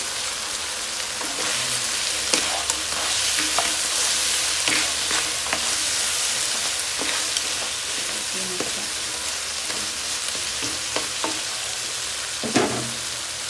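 Crab sautéing in a pan with onion, a dense steady sizzle with scattered crackles and pops and occasional stirring clatter, close and loud with no talking.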